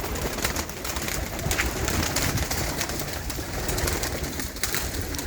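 Desi pigeons kept by a fancier, low cooing mixed with rustling and wing movement, a steady busy backdrop without a clear voice.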